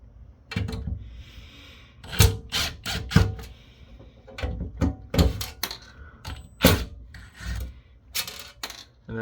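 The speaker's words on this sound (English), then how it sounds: "that's literally like the metal ripping itself loose" Steel screw inserts crack and grind loose from an aluminum chassis under a drill, giving irregular sharp snaps and rasping bursts at close range with quiet gaps between.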